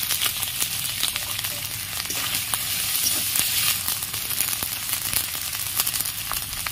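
A ground ginger, pepper and fennel paste frying with chopped tomatoes in a pan, giving a dense, steady close sizzle with occasional stirring clicks and no talk.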